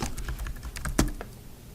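Quick keystrokes clatter on a computer keyboard as a search is typed, a close run of light taps with one sharper key hit, no voices.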